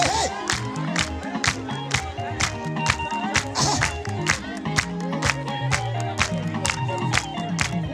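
Church congregation clapping and cheering, loud rhythmic applause with crowd shouts and music running throughout.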